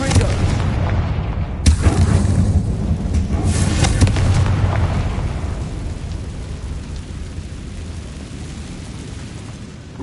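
A deep booming blast from the Confringo explosion spell in Hogwarts Legacy on PS5 rumbles with crackling debris, then swells again before fading into a long low roar.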